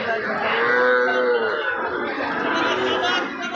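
A bull calf lows repeatedly at a busy cattle market in Joypurhat, its loud moos rising over a steady background of crowd chatter and voices.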